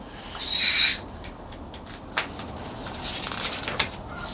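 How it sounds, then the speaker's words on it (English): A pet bird indoors, heard from another room, gives one loud, shrill high-pitched call of about half a second, followed by quiet room noise and a few faint clicks. "My bird is going off in there."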